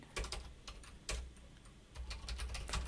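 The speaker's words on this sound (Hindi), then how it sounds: "कीबोर्ड से कंट्रोल ए प्रेस करें, उसके बाद यहाँ पे इसमें टाइप करें" Quick typing on a computer keyboard while filling in a PDF form, with close, crisp key clicks in uneven bursts over a faint background hum.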